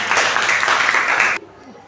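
A school class applauds together during a practice teaching lesson: a short burst of dense group clapping that stops abruptly after about a second and a half, followed by quiet.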